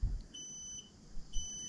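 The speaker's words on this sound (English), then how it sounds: "Beeps." A battery BMS charger gives short, thin electronic beeps, a couple of faint high tones over a low hum while charging continues at around 10 amps.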